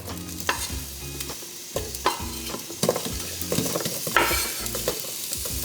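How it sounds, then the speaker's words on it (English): Onions sizzle steadily in a hot pot while a utensil stirs and scrapes in short rhythmic strokes, close and clear, with no talking. "you wanna make sure you hear that sizzle when they hit the pot"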